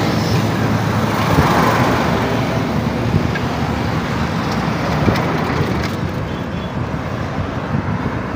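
Steady road traffic rolls along the newly opened Port-Bouët interchange road, a continuous broadband roar of passing vehicles at moderate distance with no voices, holding level throughout.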